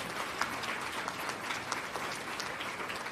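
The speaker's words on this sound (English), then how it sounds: "Give yourselves a round of applause." Steady applause from a crowd at the USA Jigsaw Nationals 2024 closing ceremonies, dense clapping at an even level for the whole stretch, with a few sharper claps standing out.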